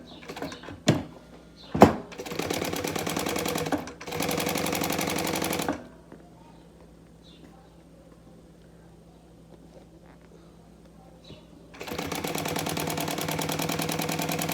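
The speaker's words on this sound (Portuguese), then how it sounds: "E agora é só vir costurando, ó, em toda a volta." A sewing machine stitches synthetic leather over a cardboard binder cover, running in loud, rapid bursts: short starts, then a steady run of several seconds, a long quiet pause, and a sustained run again at the end.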